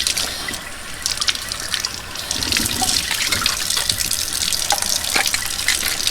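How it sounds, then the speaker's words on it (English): Goat milking equipment is rinsed under a running tap, with continuous close splashing and gushing of water over several seconds and no voices. "Usually I can just rinse it right off."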